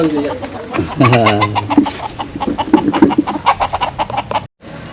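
A rooster crows near the start, followed by repeated clucking from chickens; people talk and move about nearby throughout.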